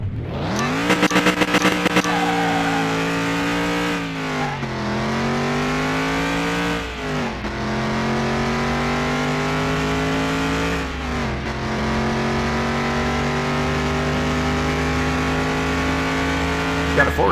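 A more modern V6 car engine in Car Mechanic Simulator 2021 revs repeatedly, climbing to high pitch, dipping and rising again in a sustained loud drone, with a brief clattering at the start.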